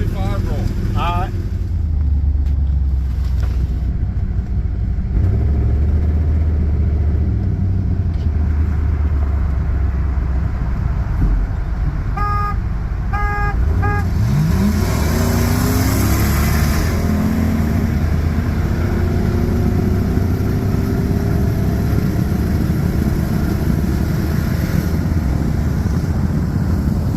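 A 1999 Chevy Silverado with a 5.7 engine accelerating from a 25 mph roll, heard from inside the cab as a steady engine drone under heavy wind and road noise, with people talking.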